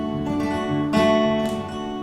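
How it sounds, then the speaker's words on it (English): A fingerpicked acoustic guitar pattern for the second verse and chorus of a song, with the thumb on the low strings and fingers plucking above, sounding close and clear, slightly busier with a brief swell near the middle. "this second verse and chorus pick pattern is a little bit more tricky than the first one."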